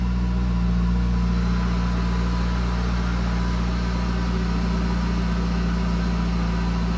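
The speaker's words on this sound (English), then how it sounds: "Should be able to start. It's going to be a little bit of misfire first." A 2012 MazdaSpeed 3 engine idles after a fuel pump install, a steady close-up low rumble with a slight uneven pulse and no talking.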